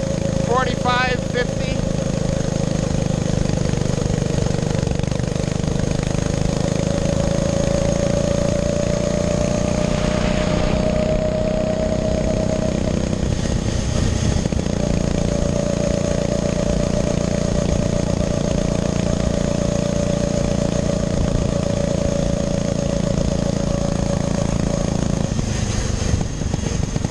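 A 1912 Indian board track racer replica motorcycle engine runs steadily throughout, a loud, constant mechanical drone with a clattering edge and only slight shifts in pitch.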